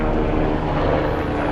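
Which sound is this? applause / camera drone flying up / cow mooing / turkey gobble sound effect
camera drone flying up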